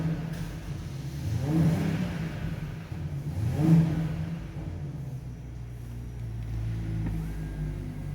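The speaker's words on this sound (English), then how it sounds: "It's an inline 6 petrol engine. Just listen to it, the way it growls." A BMW X7 40i M Sport's inline-six petrol engine revs twice in low, growling swells that rise and fall, then settles into a steady drone from inside the car, with no talk over it.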